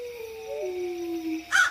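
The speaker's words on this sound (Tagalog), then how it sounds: "Narinig mo ba yung malakas sa alulong ng aso?" A dog howls in a long, sustained wail that slides slightly downward, loud and close, ending in a brief harsher burst; no talking.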